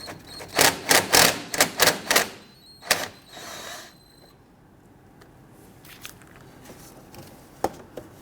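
A 10mm socket on an extension loosens and removes bolts on a 2011–2015 Kia Sorento 2.4L four-cylinder, a quick run of close rhythmic ratchet clicks followed by a few scattered metallic taps and a quieter pause.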